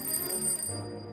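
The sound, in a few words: shop bells in Kurt Weill's opera Der Zar lässt sich photographieren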